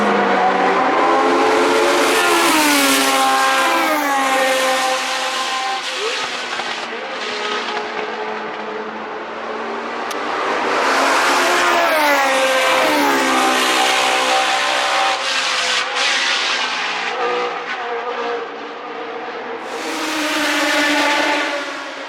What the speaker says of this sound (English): it's the sounds of these engines as much as the sight of the cars whizzing past that I turn up to events like this for